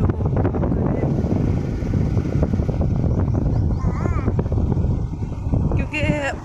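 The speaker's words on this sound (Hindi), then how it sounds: "क्योंकि हम लोग बाइक पे हैं तो शायद आपको आवाज़ इतनी क्लियर नहीं आ रही होगी" Motorbike ride along a village road lined with orchards, with steady engine rumble and heavy wind buffeting the microphone throughout, while someone talks over it.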